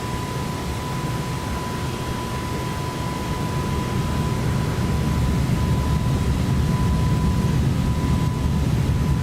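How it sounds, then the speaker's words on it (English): Airbus A321neo engines in the X-Plane 12 flight simulator with the BSS sound pack, a steady, loud broadband roar with a sustained whine, unchanging across the whole stretch and free of talk. "Check those engines out."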